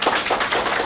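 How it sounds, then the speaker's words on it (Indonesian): Applause for a guest, the head of the Jakarta provincial manpower, transmigration and energy office, on an Indonesian occupational-safety talk show: a brief burst of dense, steady clapping filling the whole moment. "Tepuk tangan untuk beliau."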